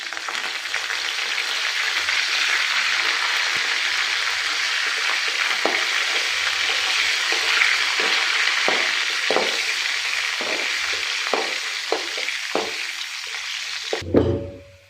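Curry leaves crackle in hot oil for a village-style tempering, a steady bright sizzle with scattered pops and light stirring taps that fade near the end before a final clunk.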